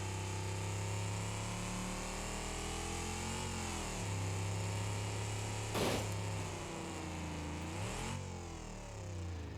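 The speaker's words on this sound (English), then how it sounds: "Yeah, that exhaust is insane." In the BeamNG.drive driving game, a straight-piped car exhaust roars with a raspy, buzzing drone. Its pitch swings up and down as the throttle changes, with a sharp pop or crackle burst partway through.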